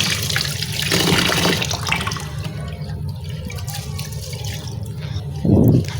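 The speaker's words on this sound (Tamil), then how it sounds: "இப்போ இதை நல்லா ஒரு 4-5 டைம் நல்லா திருகி விட்டுட்டு நல்லா வாஷ் பண்ணி எடுத்துடலாம்." Urad dal being washed in water for murukku, with close running and sloshing water, swirling and dripping sounds throughout and a louder splash of water near the end.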